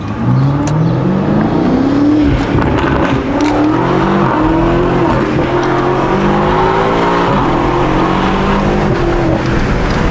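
A loud BMW F90 M5 V8 engine with a titanium exhaust and no downpipes revs and roars continuously nearby, the deep exhaust note rising and falling through repeated throttle blips.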